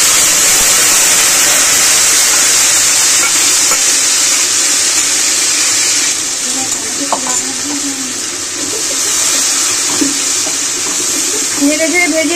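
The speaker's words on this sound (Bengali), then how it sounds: "আদা আর কাঁচা লঙ্কা বাটাটা নেড়ে চেড়ে ভাজতে ভাজতে" Ginger and green chili paste sizzling in hot tempering oil, a steady bright hiss that softens midway as it is stirred, with faint utensil scrapes near the end.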